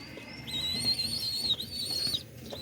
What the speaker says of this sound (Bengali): এগুলো সিরাজি কবুতর দুইটি বাচ্চা বাচ্চাকে খাবার খাওয়াচ্ছে